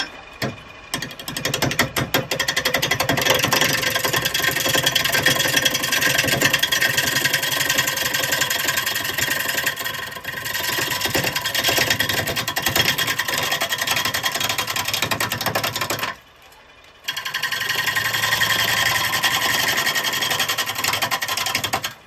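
A wood lathe spins a rough lump of ash at 690 RPM, with a continuous loud rattling and knocking drone from the tool catching the uneven wood. The noise stops briefly near the end, then resumes; there is no talking.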